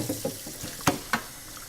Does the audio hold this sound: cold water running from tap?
yes